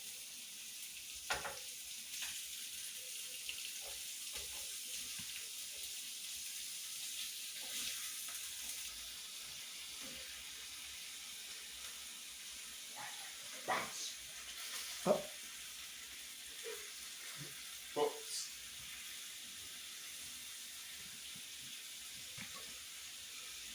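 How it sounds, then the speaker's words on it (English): Meat browning in a frying pan for a homemade breakfast pie gives a steady, soft sizzle, broken by occasional scrapes and clinks as it is stirred around. "Just waiting for the meat to like brown off now a bit guys"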